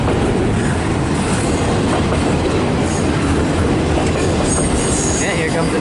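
Freight train with a distributed power unit locomotive rolling past at close range, a loud continuous rumble of wheels and cars with clattering rail noise and brief metallic squeals throughout.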